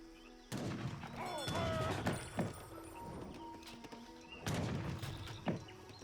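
Musket volleys crack in Age of Empires 3 battle fighting, with sharp clustered bursts of gunfire amid clattering unit sounds, fairly quiet overall.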